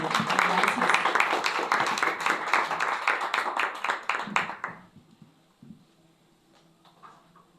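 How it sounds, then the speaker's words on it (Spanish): Audience applause at a book presentation for Teresita, dense clapping for about five seconds that quickly fades to scattered claps and quiet room noise. "Un fuerte aplauso para Teresita, por favor."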